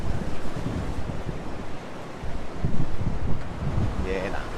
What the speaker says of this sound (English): it's still super windy around there as well